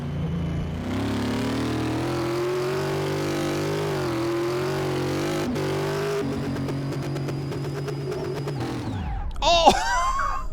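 The supercharged Chevrolet Corvette C4 engine in Car Mechanic Simulator 2018 holds a loud, sustained drone whose pitch wavers up and down, then the revs fall away sharply near the end before a brief, different burst of sound.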